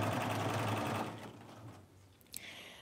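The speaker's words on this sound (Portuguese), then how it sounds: "Quero ver se eu ia fazer uma costura reta aqui." A sewing machine runs a straight seam with a fast, dense mechanical whir for about a second before slowing and stopping. A faint clack follows near the end.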